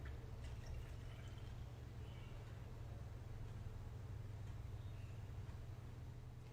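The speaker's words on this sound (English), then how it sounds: "So just fill it up with water." Water runs steadily into a foam pump soap bottle during a homemade foaming hand soap mix, a soft continuous rushing over a low hum with no talking.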